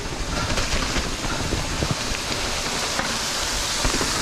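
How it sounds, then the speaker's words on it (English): Rain falls near a waterfall at Devils Den in Arkansas, a loud, continuous hiss and rush of water with scattered drops close by and no pauses. "It's raining. There's a waterfall."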